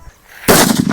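A Diwali country-made 'atom bomb' firecracker bursts with a sudden, very loud close blast after a quiet moment, then a dense roaring rumble sustains to the end.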